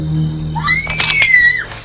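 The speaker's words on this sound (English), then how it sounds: "Both of their children are screaming very loudly in the middle of the night" Loud high-pitched scream from the horror-comedy film Troll 2, a single sustained shriek lasting about a second over a low background hum.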